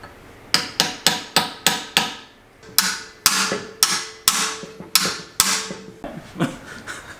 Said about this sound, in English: I think I'm chiseling the actual pinion support.